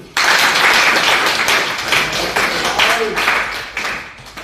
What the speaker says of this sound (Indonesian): Luar biasa ya. Tepuk tangan dulu.